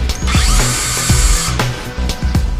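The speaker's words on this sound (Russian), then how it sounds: "Сверление отверстий для петель на раме осуществляем с помощью сверла диаметром 3" Power drill with a 3 mm bit boring hinge holes in a window frame, a loud, close whirring drone with repeated bursts as the bit bites into the material, no talking.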